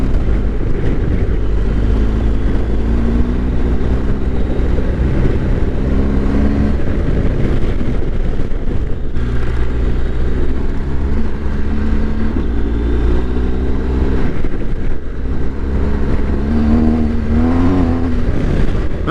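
A 2022 BMW GSA motorcycle rolls along a dirt road on Michelin Anakee Wild tires, its steady engine drone and heavy wind rush continuous and loud throughout, with gear-shift pitch changes.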